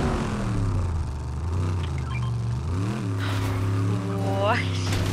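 A vehicle in Fortnite drives with a droning engine that rises and falls in pitch as it revs, heard steadily beneath people talking.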